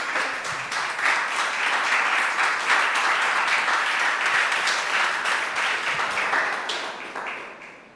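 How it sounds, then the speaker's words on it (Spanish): A church congregation claps during a Sunday morning service, a dense, loud wave of applause that holds steady and then fades away toward the end. "Dale un aplauso al Señor en esta mañana."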